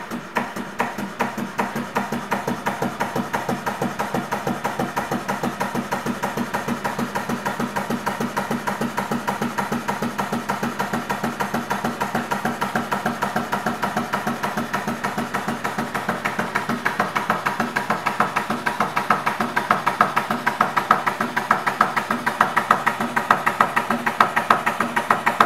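A small Stuart model steam beam engine runs steadily with a rapid, even mechanical clatter and chuff, its beat quickening and growing louder over time as the governor comes into play.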